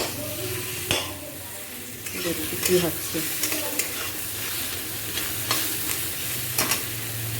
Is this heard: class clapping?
no